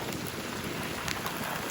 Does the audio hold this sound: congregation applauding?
no